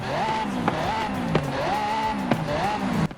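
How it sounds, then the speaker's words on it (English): Lexus LFA at top speed in the racing game Forza Horizon 5, engine wailing high and loud with repeated rising pitch sweeps broken by sharp gear-shift cracks roughly every second. "444 kilometers per hour on our Lexus LFA. Let's listen to it once again"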